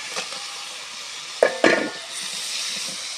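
Pieces of taki fish drop into a pan of cooked-down spice paste, giving two brief close splashy hits followed by a soft continuous sizzle with light stirring.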